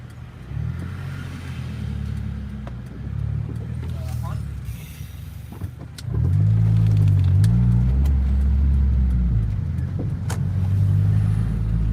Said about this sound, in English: Oh, an old Toyota Celica.